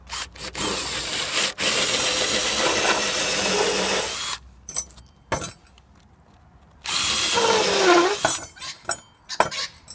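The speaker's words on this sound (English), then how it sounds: "Yes, I already have pre-drilled it, but I'll just" Power drill boring a hole for a heavy-duty skylight bracket on a tile roof, two loud sustained whirring bursts separated by a quiet gap with clicks and knocks.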